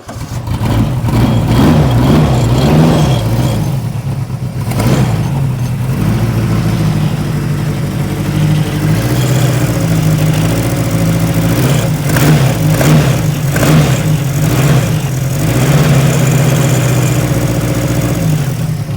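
A Jaguar engine running rough on only four cylinders churns loudly and close by, with an uneven, lumpy idle and a few surges of revving, steady throughout with no voices.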